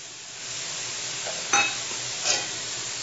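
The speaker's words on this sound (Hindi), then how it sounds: "हमारा बहुत अच्छी तरह से फ्राई हो गया है, इसमें हम फ्राई किया हुआ आलू डाल देंगे।" Fried potatoes tipped into a soya curry frying in a pan, a steady sizzle broken by two brief clattering scrapes as the pieces go in and get stirred, no talking.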